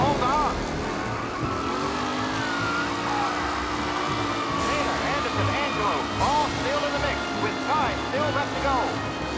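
Car driving in Mafia: Definitive Edition, with a steady engine drone that rises and falls as the vehicle moves, mixed with game sounds and music under speech.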